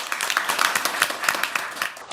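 An audience at a parliamentary ESG talk concert bursts into dense, steady applause, many hands clapping at once in a bright, continuous patter that holds evenly throughout, with no voices over it.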